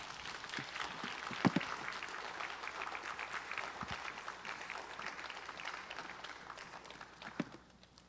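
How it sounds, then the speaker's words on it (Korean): A church congregation at a Friday evening worship service applauds to welcome a pastor to the pulpit, steady moderate clapping from a crowd that tapers off toward the end. "우리 박수로 모시겠습니다"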